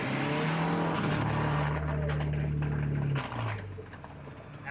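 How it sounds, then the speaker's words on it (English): Volkswagen Jetta with a 2-liter turbo engine running a 100 shot of nitrous, roaring loud and close with a steady high drone that drops off sharply near the end as the engine gives out. "what happens when you send 100 shot of nitrous through a 2-liter turbo engine that wasn't built for it"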